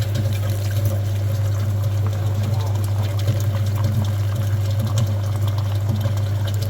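A cooling-system flushing machine runs on the engine of a Subaru Outback 2.5, giving a steady low hum with trickling water noise over it, continuous and fairly loud throughout.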